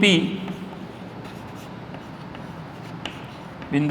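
Marker or chalk strokes on a classroom board during a mathematics lesson, steady scratchy writing that runs throughout with brief bursts at the start and end.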